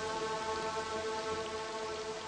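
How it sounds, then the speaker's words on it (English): Rain in the video game Spate pours down as a dense, even hiss, steady and close throughout, with no voices over it. "Nice water physics with the rain dripping off the guy."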